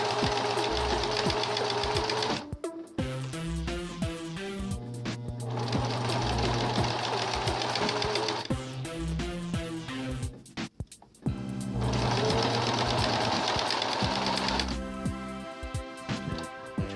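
A sewing machine stitches a shirt sleeve in long steady runs of rapid mechanical chatter, pausing briefly between passes, close and loud with no talking.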